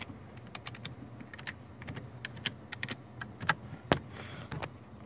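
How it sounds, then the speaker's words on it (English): Rapid keystrokes on a computer keyboard as a password is entered on a Dell Dimension 4600 running Windows XP Home Edition, steady close clicking with one louder key press near the end. "I'm gonna type in my password to see if it works"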